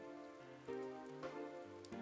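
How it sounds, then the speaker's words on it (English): Steady rain in the game Persona 4 Golden patters on a surface, soft and continuous, with faint tonal music drifting underneath. "Good thing it looks like the rain will keep up all night."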